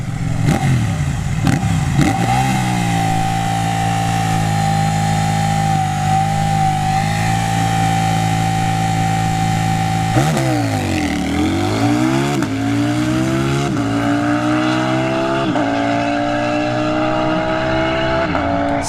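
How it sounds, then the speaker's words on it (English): A KTM 790 Duke motorcycle makes a drag racing run at a Wednesday test-and-tune session at ShowTime Dragstrip, its engine loud and close, holding a steady high drone before dipping and surging through rising revs with gear-change shifts. "Yep, KTM 790 Duke. We see them at every Wednesday test and tune."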